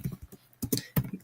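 Light taps on a computer keyboard come in a few short clusters, close and fairly quiet, with brief pauses between the bursts of keystrokes and no voice.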